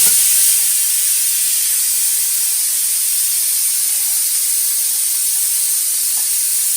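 Steam hisses steadily from a pressure cooker holding vegetables on a gas stove, a continuous bright, loud rush that holds level throughout with no talking.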